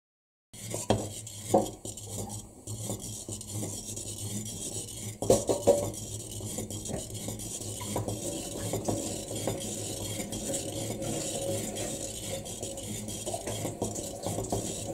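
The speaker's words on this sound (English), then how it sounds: "Butter is melted and it is cooking." Butter melting and cooking down into ghee in a clay pot, giving a steady soft sizzle and bubbling with occasional scraping clinks of a utensil against the pot, close and continuous without talk.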